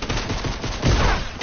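A fast run of loud pistol shots rings out in a Fortnite arena trios match, dense overlapping cracks filling the short stretch with no voices.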